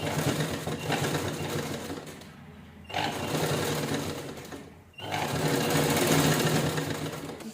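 Sewing machine running in three bursts, stitching lace onto the side of a purse made from two zippers, with short pauses between runs; close and steady, no talk.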